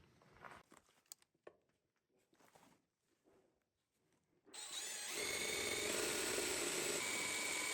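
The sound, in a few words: drilling holes in ATV frame rail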